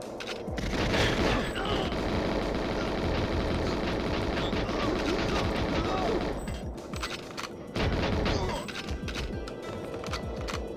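Gunfire from the GoldenEye 007 video game, dense and continuous across the clip, with repeated shots and booming impacts over a loud game soundtrack, with a couple of brief dips.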